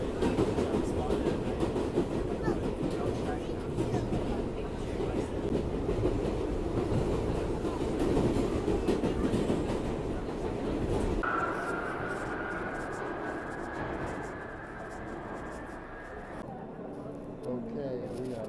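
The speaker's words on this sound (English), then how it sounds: "Step 1, we will take the train to the next stop." An R62A 6 local train runs on the New York subway, its loud steady rumble and clatter filling the car. Partway through it eases into a quieter hum with a high whine. Someone speaks over it.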